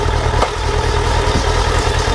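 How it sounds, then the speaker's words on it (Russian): A Suzuki Bandit 1200S (GSF1200S) motorcycle engine runs steadily at a close, loud idle, with a continuous low rumble and faint mechanical clatter. "Двигатель приятно работает."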